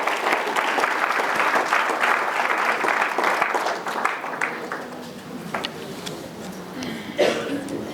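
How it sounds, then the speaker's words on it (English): Loud applause from a large crowd, dense clapping that gradually thins and fades, with a cough or two near the end. "please give a very loud round of applause"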